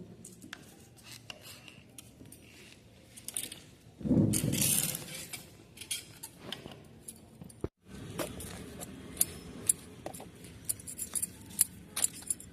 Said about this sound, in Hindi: मैं पिंक कलर का आपको कटिंग काट के दिखा रही हूँ।